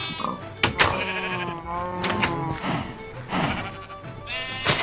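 Minecraft sheep bleat several times in a row, loud and close, with a person talking over and between the bleats.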